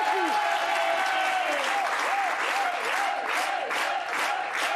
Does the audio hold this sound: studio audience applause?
yes